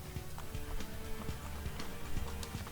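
Horse hooves gallop in a steady, rapid clip-clop rhythm in the video game Assassin's Creed 2, close and continuous over a faint game backdrop.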